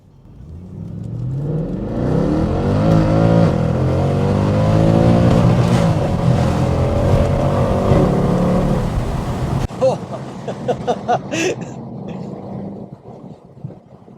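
A Mercedes C63 AMG coupe with the 6.2 V8 and Milltek secondary decats pulls away hard from a complete standstill, its deep engine note rising through the revs for several seconds before easing off, followed by crackles and pops.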